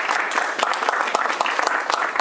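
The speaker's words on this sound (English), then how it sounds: "I just want for everybody to give Emma a huge round of applause." A room of listeners gives Emma a round of applause after a guest speaker program, brisk dense clapping from many hands held steady and close throughout.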